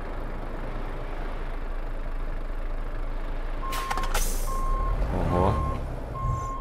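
A Volvo FH IV Generation truck in Euro Truck Simulator 2 reverses, its steady intermittent beeps sounding over a loud idling engine drone, with a brief hiss of air partway through and a short exclamation from a voice.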